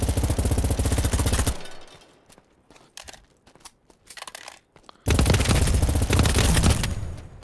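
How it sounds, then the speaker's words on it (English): Honey Badger rifle fire in a video game: a loud sustained automatic burst, then a quieter stretch of light mechanical clicks and clatter, then a second long, loud burst of rapid shots. "This is the old Honey Badger firing."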